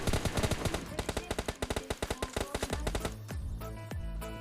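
Rapid automatic gunfire in the video game PUBG, a fast string of sharp shots in bursts over about three seconds, then fading to a quieter game ambience.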